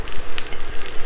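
Fresh spinach sizzling in a tablespoon of olive oil in a cast iron skillet, a loud, bright crackling hiss with small pops, close and alone.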